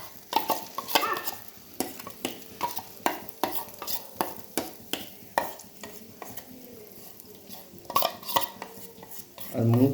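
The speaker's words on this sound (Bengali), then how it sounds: "সেই ডালটাকে তাড়াতাড়ি বাটি থেকে কড়ার মধ্যে নামিয়ে দেব" Mung dal tipped from a bowl into a wok and stirred for mung dal halwa, giving repeated scraping and clattering spoon strokes against the pan with a soft sizzle, steady and close throughout.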